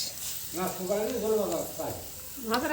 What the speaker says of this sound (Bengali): এখানে আর কি রান্না হচ্ছে এই যে পাঁপড় ভাজা